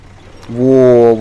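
An off-road vehicle with its differential lock engaged pulls itself out while clearing debris at a dacha; a steady, close engine drone rises abruptly after a brief quiet start and holds firm before easing off.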